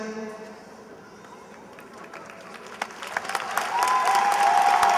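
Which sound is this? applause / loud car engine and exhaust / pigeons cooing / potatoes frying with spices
applause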